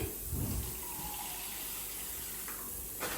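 Water runs steadily into a bowl, a close, continuous splashing hiss with a brief gush near the end.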